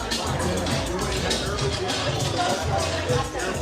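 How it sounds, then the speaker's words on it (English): A small audience murmurs and chatters at Barrel Proof Lounge before a live comedy show, a steady, close, overlapping babble of many voices throughout with no single voice standing out. "We got a little crowd here at Barrel Proof."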